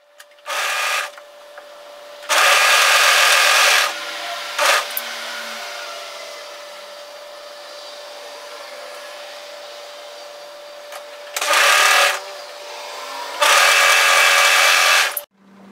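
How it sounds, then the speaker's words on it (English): An overlocker stitches a cardigan seam in several short, loud whirring bursts of a second or two each, separated by quieter stretches with a faint steady motor hum. "overlock that seam and then match the other one and go and overlock that as well at the same time"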